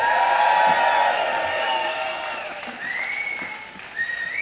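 A concert audience in a large hall cheers and applauds a tribute band. Sustained clapping and whistles are heard at a moderate distance, fading slightly with scattered whoops.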